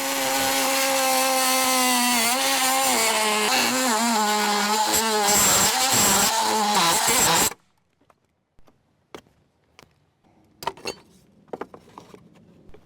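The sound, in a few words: oscillating tool cutting rotted door trim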